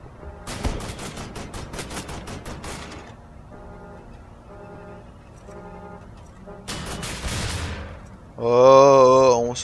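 An automated machine gun in the Wolfenstein video game fires two rapid bursts separated by a quieter pulsing mechanical stretch, then a loud wavering electronic tone takes over.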